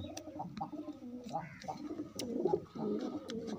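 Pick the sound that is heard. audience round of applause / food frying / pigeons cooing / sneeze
pigeons cooing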